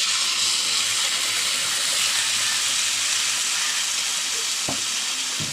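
Blended tomato goes into a pan of frying chicken curry with spices, setting off a loud, steady sizzle and hiss that continues evenly, with a couple of brief knocks near the end.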